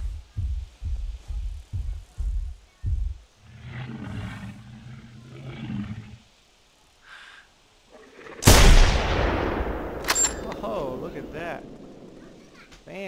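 Loud rifle shot from theHunter: Primal fired at a T-Rex, a sharp blast at mid-clip with a long rolling echo and a second crack after, preceded by heavy rhythmic dinosaur footsteps and a low rumbling growl.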